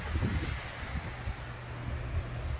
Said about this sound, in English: that gust was only 7 miles an hour